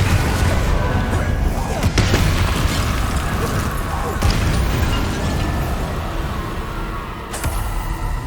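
Loud, sustained blasting and rumbling from Confringo spells in Hogwarts Legacy, with sharp cracks and booms breaking through a thick, continuous wash of battle noise.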